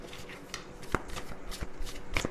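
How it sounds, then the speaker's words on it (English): Large tarot cards shuffled by hand in a quick run of papery riffles and soft slaps, close up, with no talk. "These cards are big. So I have to shuffle them this way."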